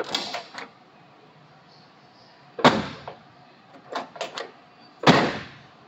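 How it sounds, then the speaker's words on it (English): Door mechanisms of a 1963 Ford Thunderbird click and thunk several times, with a latch release and a solid closing sound, close up and otherwise quiet. "it's actually a handle here to hold and opens the door."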